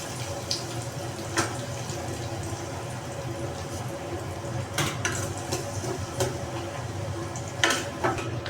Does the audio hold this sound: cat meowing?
no